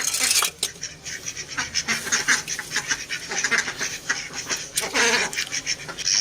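Ducks quack repeatedly in a noisy, overlapping chorus close by, harsh nasal calls coming in bursts with little pause.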